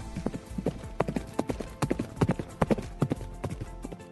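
Horse hooves clip-clop in a steady, uneven rhythm of sharp, close knocks that continue throughout with no voices.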